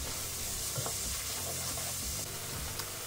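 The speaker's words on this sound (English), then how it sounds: "we're starting off with half a cup of chopped onions. We're gonna let that cook until your onions are a little bit translucent" Half a cup of chopped onions sizzles in a pot for a Thai coconut curry shrimp noodle soup, an even, dense frying hiss with occasional light stirring clicks, close and steady, with no voices.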